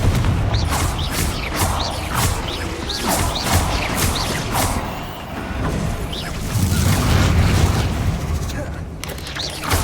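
Confringo blasting-spell explosions in Hogwarts Legacy, a run of booming blasts and crashing impacts in quick succession over rumbling combat noise, continuing through the whole stretch at a loud, fairly even level.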